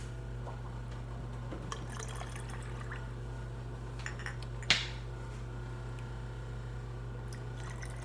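Lime juice pouring into a measuring spoon over a constant low hum, with faint close dribbles and drips and one brief louder splash near the end.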